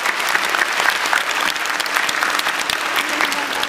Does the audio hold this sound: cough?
no